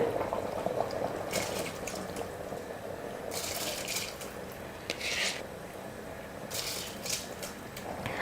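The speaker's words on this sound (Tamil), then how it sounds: "தண்ணி நல்லா இந்த மாதிரி கொதிக்க ஆரம்பித்ததுக்கப்புறமா நம்ம அரிசி சேர்த்துக்கலாம்." Soaked, drained rice goes into rolling boiling water in a pressure cooker pot, with a steady bubbling simmer broken by several short bursts of rattling, pouring grains.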